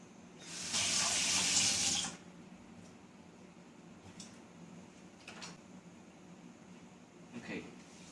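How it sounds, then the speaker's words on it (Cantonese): A household water tap is turned on while a water filter unit is being installed, giving a loud, steady gush for about a second and a half before stopping, followed by a few faint clicks and knocks. "咁我哋而家咧就要重複一個動作，開水喉"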